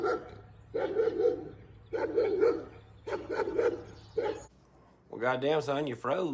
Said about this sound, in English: It's just a dog. It'll be all right.